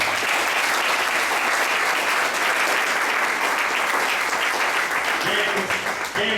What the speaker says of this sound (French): Acclamons quand même pour moi.